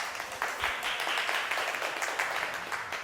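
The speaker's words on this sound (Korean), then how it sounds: "큰 박수 부탁드리겠습니다" Applause from a lecture audience after a Friday science talk at Kyungpook National University, a steady, fairly faint patter of clapping lasting a few seconds with no voices over it.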